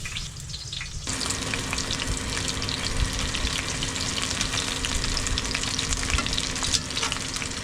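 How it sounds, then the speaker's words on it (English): Crumbed fish frying in hot oil at a campsite, the sizzle bursting in loudly after a brief quiet moment and then holding as a dense, steady crackle close by. "crumb it in some crumb and chuck it in the oil"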